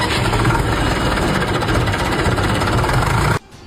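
A Hindustan 50 tractor, a model decades old, idles with a steady, loud, rough diesel rumble and a fine knocking texture. The sound holds evenly for over three seconds, then cuts off abruptly.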